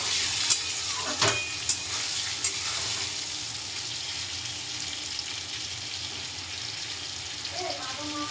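Whole pointed gourd frying in a pan gives a constant hissing sizzle with a few sharp clicks of a utensil, close up and steady throughout.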